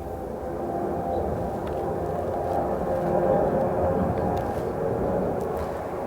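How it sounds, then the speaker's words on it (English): A large cargo army airplane flies overhead, making a steady, broad rumbling roar that fills the whole stretch at an even, moderate loudness, with no talking. "But now there's a damn airplane again."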